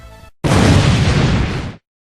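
A single loud, booming video game cannon blast erupts and rumbles for over a second before cutting off abruptly, with a short tone just before it.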